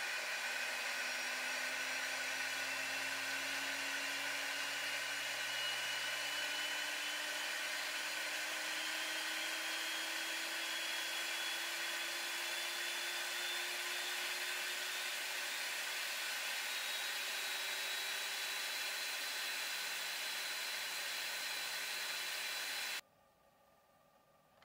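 A VEVOR 3 kW milling spindle whines steadily as it ramps up toward full speed, its pitch slowly rising over a long stretch before the sound cuts off abruptly near the end.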